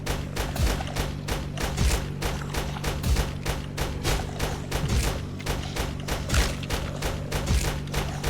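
Rapid gunfire in a Roblox zombie car-building game, a dense fusillade of repeated shots with steady thumping bursts over a constant low engine-like drone, loud and continuous throughout.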